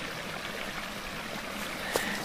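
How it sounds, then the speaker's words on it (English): A creek running through the back of a remote rural property flows with a steady, soft watery rush, continuous and fairly close, with one brief brighter splash near the end. "The creek, it runs through the whole of the back part of our property"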